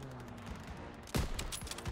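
A burst of rapid gunfire in Call of Duty: WWII cracks out after a quiet stretch, several shots in quick succession, loud and close, with game-like sound effects.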